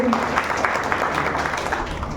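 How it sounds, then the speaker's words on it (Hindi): An audience at a Sunday seminar claps loudly for a speaker, a thick continuous wash of many hands at even strength, with a faint voice briefly at the start. "मैं चाहूँगा सर के लिए एक जोरदार ताली होनी चाहिए"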